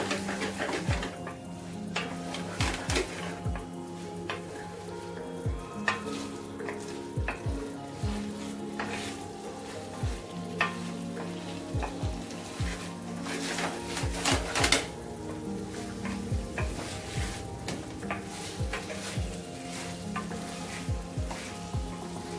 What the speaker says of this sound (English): And now we'll add a fried prawns. And give a proper toss.